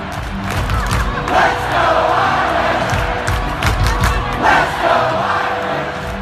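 The home crowd at Notre Dame's stadium in South Bend roars after a go-ahead touchdown in a college football game. The sound is a massive, sustained wall of cheering and shouting, swelling in waves with distant whoops.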